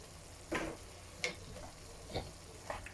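Tomato puree is mixed into a venison ragu in the pot, four soft scraping stirs over a faint low sizzle, quiet and close with no voices.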